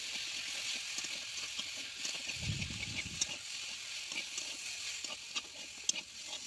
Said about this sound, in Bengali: এখানে মা দেখো ভালো করে আগে সাঁতাল দিয়েছিল, তারপরে কষাই করছে এখন।